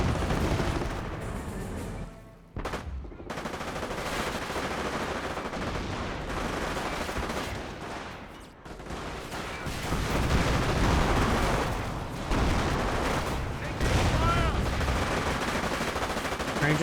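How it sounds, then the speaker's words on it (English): American Rangers firing on a Company of Heroes battlefield with Panzer Elite forces, a dense and continuous rattle of rifle and machine gun fire with distant battle noise. "Rangers firing away."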